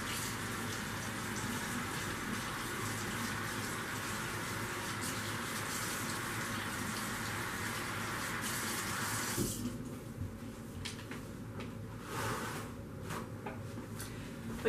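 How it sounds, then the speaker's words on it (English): A tap runs steadily for about ten seconds while hands are rinsed under it, then the flow cuts off, leaving faint drips and small splashes. "I'm gonna rinse my hands."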